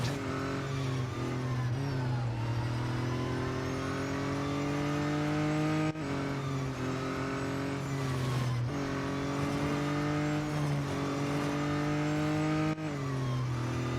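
Race car engine in the Real Racing 3 video game, a loud continuous drone that rises and dips with gear changes and revs, with no voices over it.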